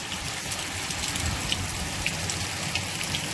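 Heavy rain pours steadily in Porbandar, Gujarat, a dense continuous hiss of drops hitting surfaces with no pauses or voices.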